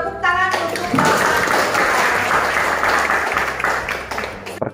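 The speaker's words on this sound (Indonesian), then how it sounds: "Tepuk tangan untuk Bapak." Applause from an audience at a teacher workshop orientation breaks out after a voice and holds as dense, loud clapping before fading.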